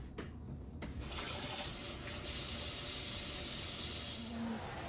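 Tap water runs steadily into a sink while hands are washed during evening chores at home, a continuous close hiss without talk.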